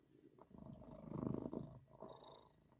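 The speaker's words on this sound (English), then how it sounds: "That's my cat purring." A domestic cat named Zizu purrs softly and close, the low rumbling rising and falling with each breath over a few seconds, quiet and alone.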